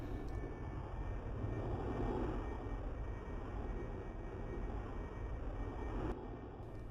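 A civilian airliner in Arma 3 coming in to land with full flaps and gear down, a steady loud engine drone and rushing air roar holding throughout, with no talk.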